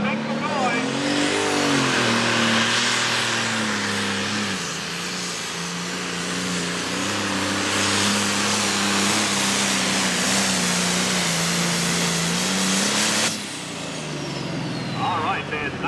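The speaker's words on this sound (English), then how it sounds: "watch the wheel speed on this tractor as he gets ready to go" Loud, roaring engine of a pulling tractor at a tractor pull in Langford, New York, revving and holding a steady throaty drone for about thirteen seconds before cutting off abruptly, with crowd noise and an announcer's voice over the top.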